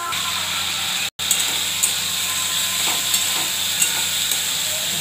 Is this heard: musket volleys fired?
no